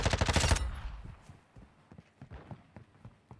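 A short, loud burst of rapid automatic gunfire from an MP5 submachine gun in a video game, followed by scattered quieter shots and thuds that fade into the background.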